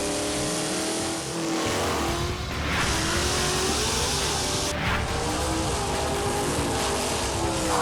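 Drag race cars roar loudly and continuously as they accelerate down the strip, a dense, sustained engine blast with rising tones and a couple of sharp surges.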